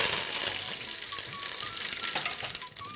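Mustard seeds and curry leaves frying in hot oil for a Telugu menthula pulusu, a steady dense sizzle with faint crackles throughout, close and fairly loud with no talking.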